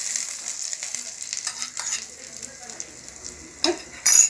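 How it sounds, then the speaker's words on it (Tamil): Ghee-fried cashews being poured over Chettinad-style mutton biryani, soft sizzling and scraping of a spoon with a couple of sharp metallic clinks near the end, close and fairly quiet. "இப்போ நெய்யில் வறுத்த முந்திரியை எடுத்து நம்ம இந்த பிரியாணி மேலே ஊற்றிடலாம்."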